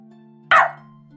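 A small puppy gives a single short, sharp bark over a faint steady hum, with quiet otherwise.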